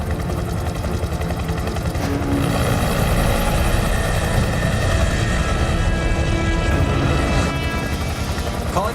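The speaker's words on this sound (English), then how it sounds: "I'm in a civilian helicopter." A civilian helicopter in flight in an action sci-fi disaster movie, its rotor giving a loud, steady, pulsing thrum that fills the whole scene without a break.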